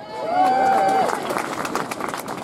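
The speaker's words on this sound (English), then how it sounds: "Please give a big round of applause for William Jarrett." Crowd applause at a North East march and rally for the NHS. A speaker's voice is followed by a sustained patter of clapping from the gathered crowd.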